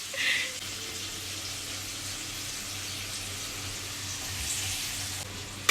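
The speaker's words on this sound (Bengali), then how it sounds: "হ্যাঁ, পেঁয়াজ দিচ্ছি এখন।" Onions frying in oil in a pan for egg and potato chow mein, a steady faint hiss with a sharper crackle at the start and a sudden knock at the very end.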